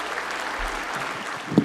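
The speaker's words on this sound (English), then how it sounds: "give her a big round of applause, everybody" A comedy show audience applauds, a dense, steady wash of clapping at moderate loudness that carries through the whole short moment.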